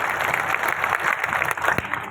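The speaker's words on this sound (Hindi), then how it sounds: "एक बार उन साथियों को जोरदार तालियां बजाकर के हौसला अफजाई करें।" Crowd applause at an outdoor village gathering after a 20-kilometre rally: loud, dense clapping from many hands, continuous for the whole short stretch with no voices on top.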